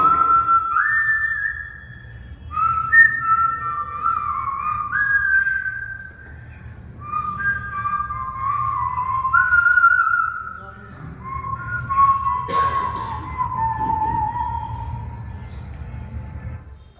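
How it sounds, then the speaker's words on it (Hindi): A person on stage whistles a tune while walking through a jungle in a one-act play at a drama festival, with clear, close melodic phrases repeated in short bursts and separated by brief pauses. "अब मैं इस पूरे जंगल में सीटी बजाता हुआ घूम सकता हूं।"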